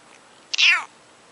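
A cat gives a single clear meow, close and fairly loud, rising then falling over about a third of a second against a quiet background with no talking.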